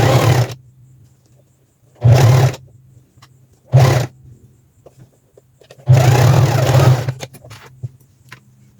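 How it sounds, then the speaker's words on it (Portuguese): A sewing machine stitches the side seam of elastic-waist trousers in four loud bursts of running, short and long, separated by pauses with a low hum between them. "E vou passar uma costura, fechando essa lateral aqui."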